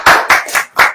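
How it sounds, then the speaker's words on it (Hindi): A church congregation at a Hindi Christian sermon claps hands in four sharp, loud, evenly spaced claps in quick succession, with no talking. "ताली बजाओ।"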